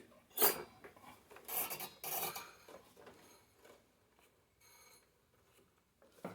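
Gritty, crunchy mechanical grinding from the transmission gears of an old Snapper riding mower, in uneven bursts, loudest early on and then tapering into quieter rasping, with no talking.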